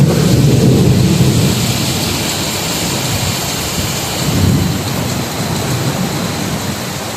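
Sudden heavy monsoon rain in the Konkan pours down hard with gusting wind, a dense constant roar of water punctuated by deep rolling rumbles of thunder, loud and close throughout.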